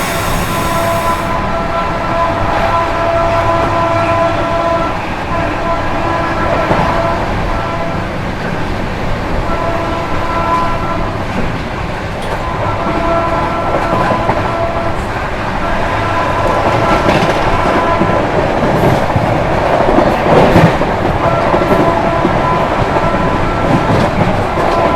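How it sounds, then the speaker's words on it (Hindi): The 12329 West Bengal Sampark Kranti express runs through Sasaram Junction at speed, a loud, continuous roar of wheels and rattling carriages sustained close by, with a steady horn-like tone riding over the rumble. "गजब की हॉकिंग और स्किप मारने जा रही है अपनी वेस्ट बंगाल संपर्क क्रांति सासाराम को।"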